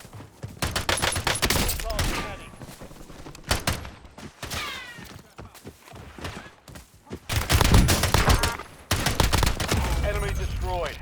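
Dense Call of Duty battlefield gunfire: rapid automatic bursts and overlapping rifle shots crackle nearly continuously, close and loud, with brief lulls between volleys.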